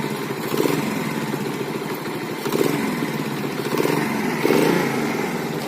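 A restored cheap Delta moped runs after starting, its small engine buzzing and rattling steadily close by, with a few slight surges in revs and no talking.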